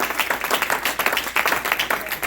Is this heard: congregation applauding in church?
yes